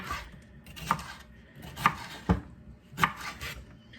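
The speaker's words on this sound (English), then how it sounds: "I'm going to cut this in half again. And we'll just finish dicing these up" A knife dices red bell pepper on a cutting board, three or four distinct close chops spaced about a second apart with soft scraping between, no voices.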